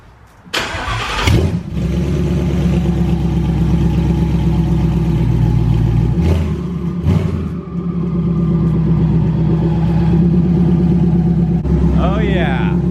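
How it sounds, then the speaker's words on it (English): A twin-turbo 2016 Ford Mustang GT on a stock motor starts up and settles into a loud, steady, rumbling idle with a couple of brief blips, recorded close by. A person talks over it. "If you listen real close, you may be able to hear those turbos."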